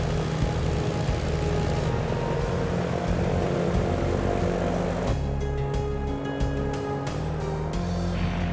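The piston engines of a Canso flying boat run up before a test flight, a loud, continuous propeller drone with a rough, throbbing low rumble that shifts character midway, with no voices.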